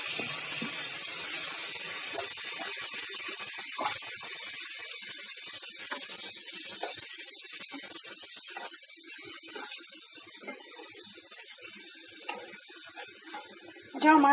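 Chicken masala sizzles in oil in a pan on a home stove, a steady bright hiss with scattered small pops and crackles throughout, ending with a short louder clatter.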